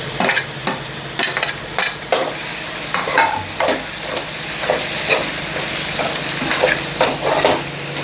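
Tomatoes stirred into a sizzling frying pan for brinjal pulao, a loud steady fry punctuated by repeated scraping and clacking of a spoon against the pan, up close with no talking.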